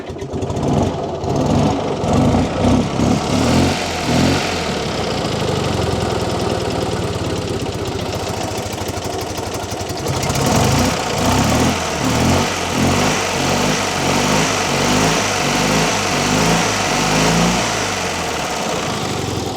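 Fiat 500 engine idling unevenly in a garage, a steady loud mid-pitched running sound whose rhythm shifts partway through as the idle speed wanders, with no talk over it.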